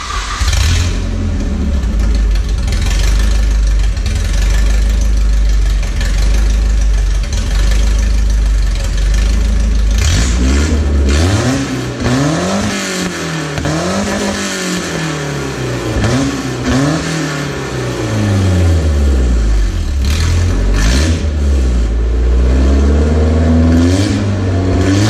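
A Dodge Hellcat's supercharged engine starts and idles with a deep rumble, then is revved hard in a series of rising and falling blips, loud and close with no talking.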